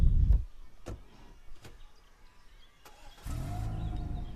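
A car in the Roblox video game starts up: a few soft clicks and thumps, then a low engine hum rising and holding steady at moderate loudness, with no talking.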